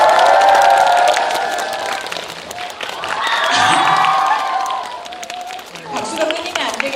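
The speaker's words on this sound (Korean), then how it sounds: "큰 박수로 맞이해 주세요." Crowd applauding and cheering as a film director and three actors walk in at a movie fan event, loud clapping mixed with high excited screams and shouts that rise and fall.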